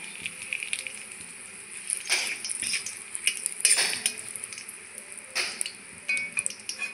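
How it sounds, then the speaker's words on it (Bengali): Bay leaves dropped into a small amount of hot oil in a wok while cooking chicken gizzards, giving a faint sizzle with light metal scrapes and utensil clinks in bursts, no talking. "কড়াইয়ে তেল দিয়ে দিয়েছি, তেল অল্প দিয়েছি কারণ ওগুলো দিয়ে তেল বের হবে। তো দিয়ে দিচ্ছি তেজপাতা।"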